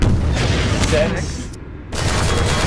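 Artillery barrage explosions in Half-Life 2 Episode One rumble as dense, overlapping booms that fill the clip loudly, with a brief lull near the middle before the barrage resumes.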